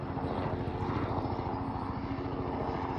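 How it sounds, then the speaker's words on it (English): A helicopter flying over mountains, its rotor sending out a loud, steady, rapid chopping throb with engine whine that holds constant throughout, close and dominant with no speech. "I guess here comes the helicopter now to pick them up."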